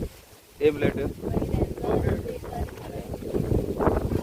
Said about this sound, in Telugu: గాలి ఎక్కువగా ఉంది.